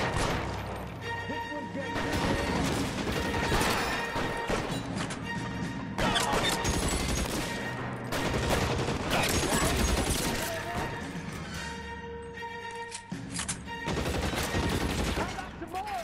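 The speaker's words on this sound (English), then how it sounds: "Кто шмаляет?" Sustained gunfire in the 1940s detective game L.A. Noire, a loud, dense run of shots and impacts with crashes layered over game music, continuing almost without pause throughout.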